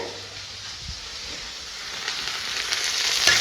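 Sliced onion sautéing in a pan for an Indian-style omelette egg curry, a steady soft sizzle and hiss that slowly grows louder, with a faint stir or scrape near the middle.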